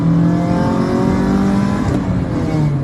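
A 1997 Honda Civic DX with a D16Z6 engine accelerates in second gear, a loud, steady engine drone with rising harmonics heard from inside the car, continuous throughout with no talk.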